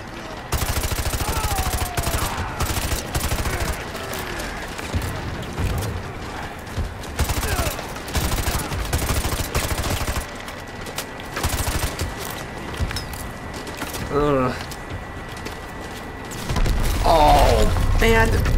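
Bursts of gunfire in Call of Duty Modern Warfare 2 remastered campaign, in a woodland cabin setting, with sharp shots scattered through a long stretch under game ambience and music, ending in a heavier cluster of impacts.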